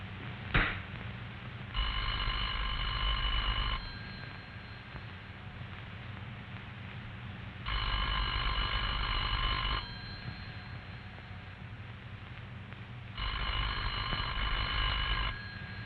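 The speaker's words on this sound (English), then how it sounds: "The party at this number will hear a clear," A telephone bell rings in three clear, evenly spaced bursts of about two seconds each with long silent gaps, following a sharp click at the start, bright and moderately loud.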